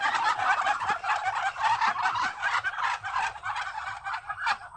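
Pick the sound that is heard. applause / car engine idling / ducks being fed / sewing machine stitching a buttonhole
ducks being fed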